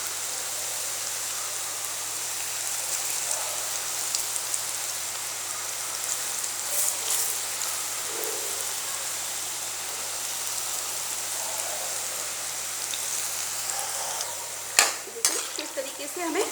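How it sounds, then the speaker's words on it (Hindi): Spinach pakoras deep-frying in hot oil, a steady soft crackling sizzle that runs throughout at moderate level, with a few sharper clatters near the end. "इसे गोल्डन ब्राउन होने तक फ्राई करेंगे"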